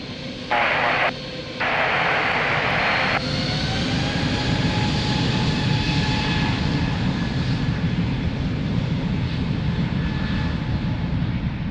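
Airliner taking off from runway 02 at Lisbon Airport, a loud, sustained engine roar that stays steady and broad throughout, heard from fairly near with no talk over it.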